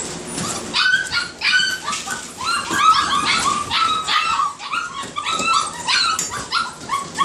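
A litter of puppies yips, whimpers and gives small barks in a busy overlapping chorus, close by and continuous throughout.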